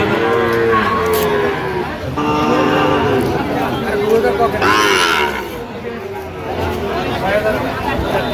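A Sahiwal calf moos repeatedly with long, drawn-out calls, close and loud, amid background chatter from people nearby at a livestock market.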